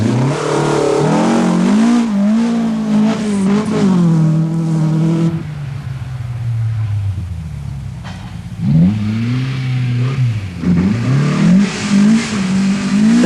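Rally cars in a New South Wales Rally Championship forest stage rev hard and roar past, engine pitch rising and falling through gear changes, loud and close with a brief lull between passes.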